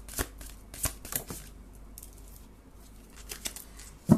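A deck of angel oracle cards being shuffled, giving soft papery riffles and slaps in irregular bursts with a few sharper taps, close and quiet, with no talking.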